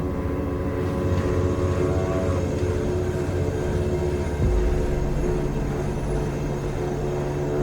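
A freight train in the video game Cyberpunk 2077 rolls past with a steady, heavy rumble that holds throughout, plus a thin, high metallic whine and a brief louder thump partway through.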